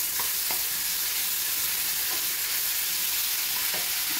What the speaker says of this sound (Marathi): आता तेल टाकलं की यामध्ये आला आणि लसूणीची 1 चमचा एवढी पेस्ट घालून घ्यायची। याला असं परतून घ्यायचं